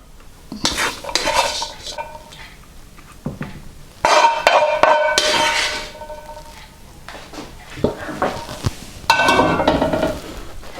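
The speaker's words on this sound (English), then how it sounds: "So this is our serving dish, which has been warmed. Place the rice in there." Cooked egg fried rice goes into a warmed serving dish, with clattering spoon scrapes and dish knocks arriving in several loud bursts, close and clear, with no talking.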